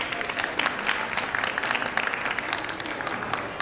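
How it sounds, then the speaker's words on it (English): Steady applause from a crowd, dense clapping sustained throughout without a break, fairly loud and close. "Give yourself a big round of applause for being an awesome audience."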